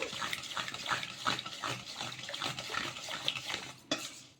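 Water goes over soaking leftover rice in a dish for dosa batter, with light splashing, clinks of a vessel and a soft, steady trickle close by, quiet overall.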